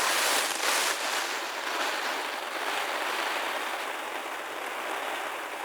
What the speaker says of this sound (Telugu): వర్షం పడుతుంది రైట్ నౌ